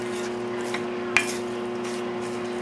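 Seasoned eggplant gently cooking in a pan for an eggplant sandwich, a soft continuous sizzle under steady kitchen hum, broken once by a sharp utensil tap against the pan.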